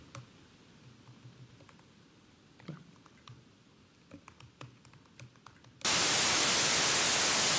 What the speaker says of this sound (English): So that's brown noise.